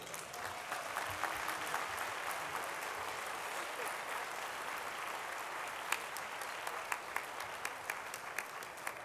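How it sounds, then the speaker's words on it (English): Audience applause for a family receiving the Defender of Justice Award at an award ceremony, a steady dense wash of clapping throughout with a few sharper individual claps standing out near the end. "Just give this family a standing ovation."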